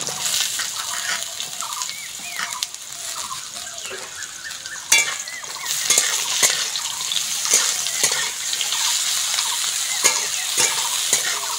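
Carrot chunks sizzle in a pan for fried rice while being stirred, with a bright steady frying hiss, scraping strokes and sharp clinks of a spoon against the pan.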